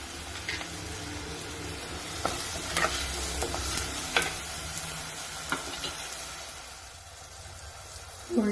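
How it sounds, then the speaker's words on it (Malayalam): Onions and chopped tomato with salt sautéing for a sardine curry: a low, steady sizzle broken by scattered scrapes and clacks of a stirring spoon against the pan, with no voices. "ഉള്ളിയും തക്കാളിയൊക്കെ നന്നായിട്ട് വഴന്നു വന്നിട്ടുണ്ട്"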